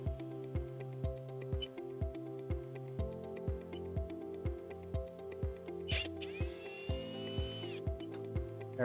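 Close, steady drill drone driving the last screw while replacing APC UPS RBC43 batteries, with regular clicking pulses throughout, a brief higher whine joining near the end as the screw seats.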